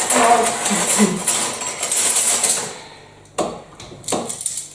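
Metal cutlery clatters and jingles in a busy jumble, then a pause followed by a few sharp clinks of utensils knocking together.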